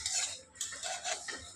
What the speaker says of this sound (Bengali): ডালটা এই যে ভাজি নিচ্ছুং